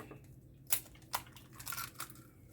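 A couple of sharp, brittle eggshell cracks, quiet and close, followed by a soft wet rustle against a low steady hum.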